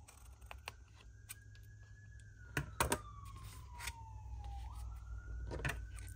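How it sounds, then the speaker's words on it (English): An ambulance siren wails faintly in the distance, its pitch sliding slowly down as it passes, while sharp clicks and taps sound up close. "there goes the ambulance again"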